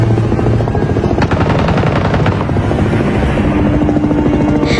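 Gunfire in a movie scene with a CIA aircraft overhead, rapid bursts of shots layered over a loud, continuous helicopter-like rotor drone throughout.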